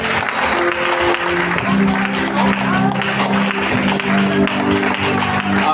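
Church congregation applauding and cheering after worship music, a loud, steady wash of clapping and voices filling the room for several seconds, with faint sustained tones underneath.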